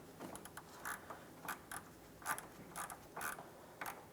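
Ratchet with a 19 mm socket tightening the drain plug on a 2004-2008 Pontiac Grand Prix 3.8L V6: faint, close clicking in short irregular bursts of several strokes with brief pauses between, no talking.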